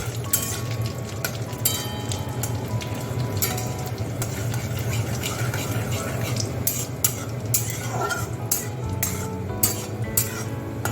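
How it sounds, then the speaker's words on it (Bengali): Dried chilli and black cumin seeds sizzle steadily in hot oil in a pan as bottle gourd leaves are added, with loud continuous frying and occasional utensil clinks and stirring. "যেই লঙ্কাটা ভাজা ভাজা হয়ে যাবে, আমি লাউ শাকটা দিয়ে দেবো।"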